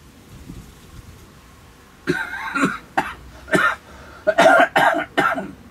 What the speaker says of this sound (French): Je tousse.